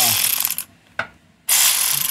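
Ratchet working nuts loose on a Jeep XJ Cherokee transfer case mount: a rapid clicking burst, a short pause with one click, then another fast clicking run, close and fairly loud.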